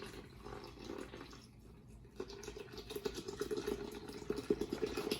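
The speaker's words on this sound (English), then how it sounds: "We're gonna put the water in." Water is poured into a container to make pink lemonade, giving a faint trickling, pattering splash that grows louder and more broken toward the end, with no talk.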